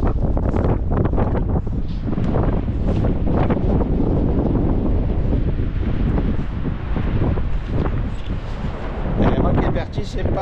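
Strong wind buffeting the microphone in a mountain gorge on a dangerous hiking trail, a loud, constant rumbling roar with gusty surges, with a person speaking faintly underneath.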